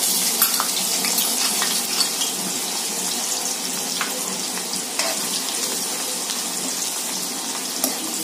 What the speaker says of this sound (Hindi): हम इसे प्याज को अच्छे से भून लेंगे